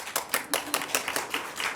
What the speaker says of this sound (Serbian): Bravo, jedan aplauz.